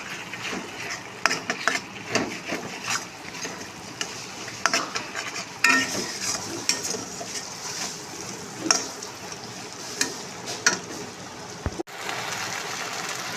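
Spice paste (masala) fries in oil in a pan for a fish jhal, with a soft steady sizzle broken by frequent scraping stirs of a spoon against the pan, plus a sharp clank near the end.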